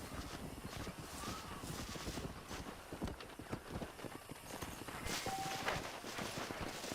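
Horse hooves clip-clop steadily at a walking pace in the Red Dead Redemption video game, close and fairly loud over a constant windy outdoor background.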